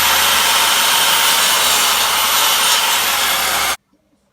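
Steady, loud continuous sawing as the end is cut off a piece of an old wooden garden bench, running without a break for several seconds before stopping abruptly.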